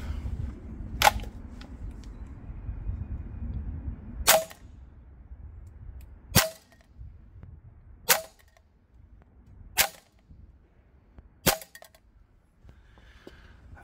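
A Krytac Kriss Vector gas blowback airsoft gun loaded with 0.25 gram BBs and red gas fires six sharp, separate shots at a steady pace, close and loud against quiet background noise.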